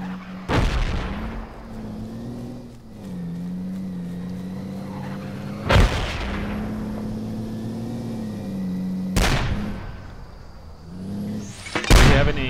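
Mortar fire in the tactical shooter Project Reality, four heavy booming blasts spaced several seconds apart over a steady low engine-like drone, loud and alone with no voices.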